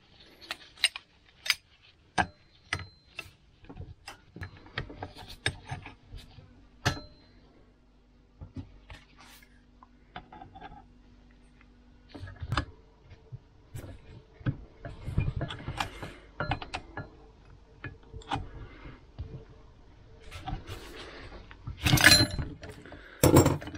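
Rear axle shaft and gear being pulled from a Kubota L1802 tractor during an oil seal repair: sparse, quiet metallic clinks, taps and knocks, with a faint steady hum in places and a louder clatter near the end.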